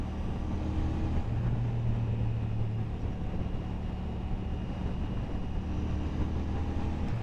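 A Royal Enfield Shotgun 650 motorcycle engine while riding: a steady, buzzy drone mixed with wind rush, continuous and loud throughout with no pauses.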